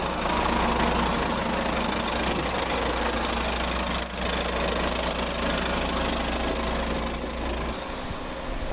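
A milk tanker truck idles by a snowy roadside. Its engine gives a loud, steady diesel rumble with constant broadband noise, unbroken for the whole stretch, and no voices are heard.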